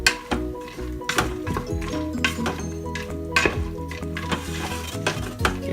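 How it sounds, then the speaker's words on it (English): A spoon scrapes and clinks around a Power Pressure Cooker XL pot while seasoning is stirred into dry pinto beans, with a faint sizzle underneath and repeated sharp metallic knocks. "We're going to go ahead and stir that up."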